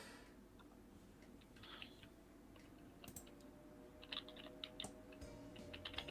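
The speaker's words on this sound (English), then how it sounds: "I'm just typing a response to someone." Keyboard typing during a livestream, a run of light irregular clicks that grows busier toward the end, fairly quiet over steady background hum.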